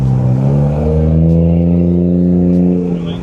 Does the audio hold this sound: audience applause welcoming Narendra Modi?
no